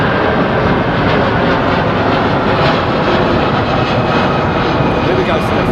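A large airliner powered by Rolls-Royce Trent 7000 engines roars steadily at Heathrow, a dense, constant broadband rumble filling the whole stretch with no break, with people talking faintly over the noise.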